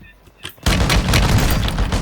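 Sniper rifle shot from a Warzone match with the MX Guardian loadout: a sharp, loud boom bursts in suddenly and rolls into sustained gunfire and explosion noise, with quieter game sounds just before.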